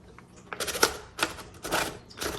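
Paper is fed into a 1960 Electra 12 electric typewriter with a large carriage, giving a few close, sharp mechanical clacks and rustling bursts in quick succession.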